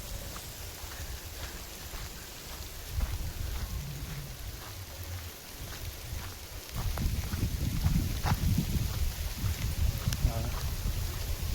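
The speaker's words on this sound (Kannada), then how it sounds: "ಸಣ್ಣ ಮಳೆ ಜೋರಾಗಿ ಬೀಳ್ತಾ ಇದೆ." Light rain falls steadily in a forest near a lake in Karnataka, a continuous soft patter of drops that thickens in the second half, heard alongside occasional talking and wind noise.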